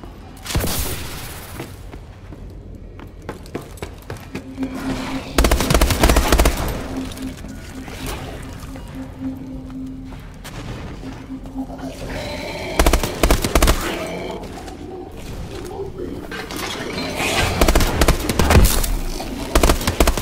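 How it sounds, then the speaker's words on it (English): A DNA bomb detonates in Call of Duty Advanced Warfare's Havoc exo-zombies mode, giving loud, layered bursts of blasts and crackling gunfire-like booms in repeated waves over a busy game mix. "DNA bomb activated. The ultimate zombie off switch."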